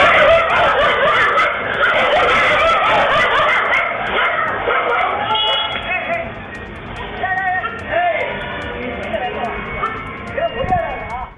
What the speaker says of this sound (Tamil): பின்னால் வந்த 3 திருநாய்கள் அந்த சிறுவனை துரத்த தொடங்கின